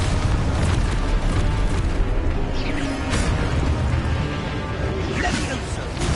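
Booming blasts of an Expulso explosion spell in Hogwarts Legacy fill a dense, continuous wall of loud rumbling game noise, with a voice partly audible underneath.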